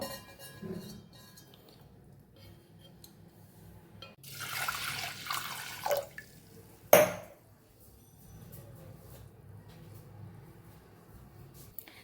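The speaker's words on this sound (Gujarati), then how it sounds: "દાળમાં ચાર ગણું પાણી ઉમેરી અને બાફવા મૂકી દેવાની છે" Water pours into a pot of lentils (dal) for boiling in a short splashing gush lasting about two seconds, followed by a sharp clink of a utensil in a quiet kitchen.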